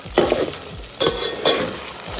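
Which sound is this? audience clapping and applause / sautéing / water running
sautéing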